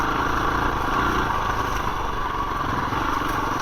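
A 2021 KTM 350 EXC-F four-stroke dirt bike engine idles nearby with a loud, steady, even putter that never changes throughout.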